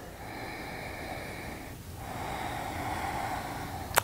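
A long, steady nasal inhale during a chair yoga session, close and fairly loud, running for several seconds and ending in a short sharp sniff.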